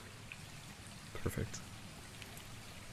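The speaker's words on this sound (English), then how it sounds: "now that you can actually hear the water, as I bring up the magic of audio in the background, you can literally hear the water" Gentle water flows steadily in a soft, faint wash of sound, with a single brief spoken word near the middle.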